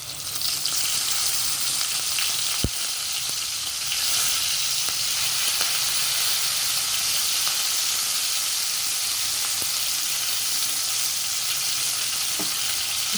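Curry leaves frying in oil with coriander powder and garam masala for chilli chicken, a loud close continuous sizzle with occasional sharp pops and stirring, no voices.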